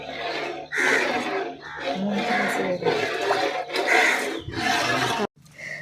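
Water pours heavily into a pot with 3 kilograms of rice for beef biryani, a continuous rushing splash that surges and eases, then cuts off abruptly just before the end.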